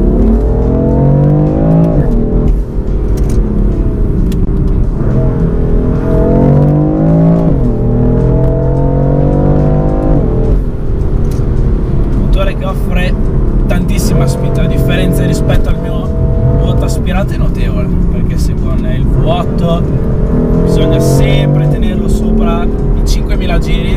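A powerful BMW M4 engine in Sport Plus with manual shifting revs up repeatedly through gear changes, pitch climbing and dropping in rising sweeps, loud and close, with occasional talk over it.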